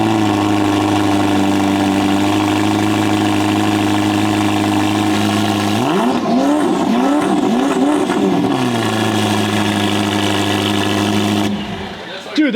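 Ferrari SF90 with its V6 engine at a dealership, idling loudly then blipped through several sharp revs that rise and fall in quick succession before settling back to a steady idle, close and dominant, with voices underneath.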